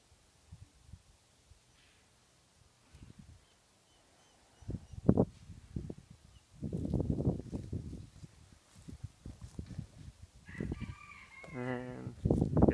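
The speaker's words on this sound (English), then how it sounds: "Got the free range chickens." Free-range chickens cluck on and off, building into a busy stretch of clucking, and near the end a rooster crows loudly and close by.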